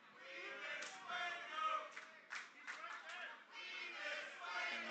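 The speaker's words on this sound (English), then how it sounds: "And this crowd getting back into this here" A wrestling crowd at a live match reacting with scattered clapping, cheers and chatter, moderately loud and continuous with a few sharper bursts of claps.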